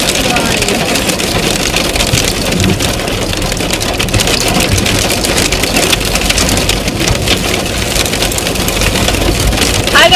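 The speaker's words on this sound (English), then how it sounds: "That hail was terrifying. Just so loud." Hail and rain pound on a vehicle in a loud, dense, unbroken drumming roar that lasts the full ten seconds.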